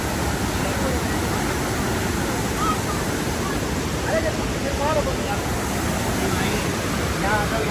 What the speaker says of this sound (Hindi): देखो कितना तेज पानी आ रहा है यहाँ पे।